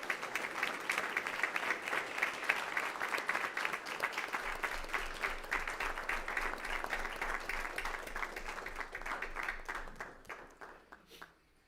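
A room full of people clapping as the Weslaco High School boys water polo team enters a school board meeting, sustained crowd applause that fades out near the end.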